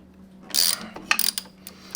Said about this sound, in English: take your 8mm, we're going to crack these bolts